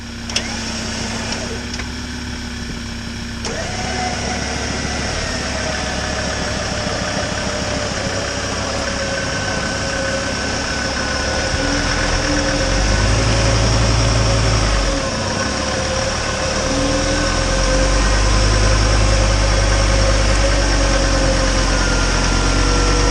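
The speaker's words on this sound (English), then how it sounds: "get in the car, get the engine running" A Ford Ranger pickup truck engine idles with a steady low hum and vibration, rising slightly in revs partway through, close by and continuous.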